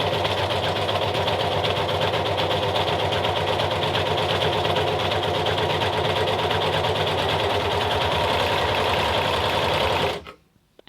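An overlocker stitching thin, lightweight cotton fabric with the differential feed turned up, a steady, rapid mechanical whirring and chattering that runs continuously up close, then abruptly stops near the end.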